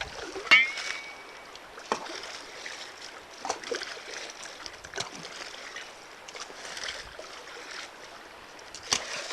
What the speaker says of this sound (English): rinse them off a little bit as you go